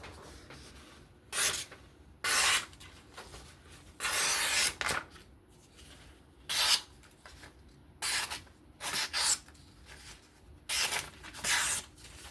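A Spyderco Sage 5 knife with an S30V steel blade is sharpened freehand on a stone in short, raspy scraping strokes, about a dozen separate swipes in an uneven rhythm, close and fairly quiet, with no talking.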